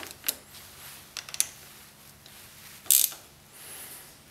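A ratchet snugging a bolt on a quick turn assembly for a two-stroke, a few sparse, short, close mechanical clicks and taps with quiet gaps between them.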